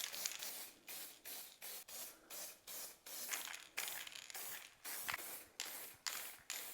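Multi-purpose spray paint hisses onto a prop in short, regular bursts of roughly half a second each, close and fairly quiet, with brief gaps between sprays and no talking.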